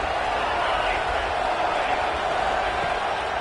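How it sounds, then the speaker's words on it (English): A Texas Tech vs Iowa football stadium crowd roars on a third down, a loud, unbroken wash of cheering noise that holds steady throughout. "The crowd electric, trying to help Tech on this third down."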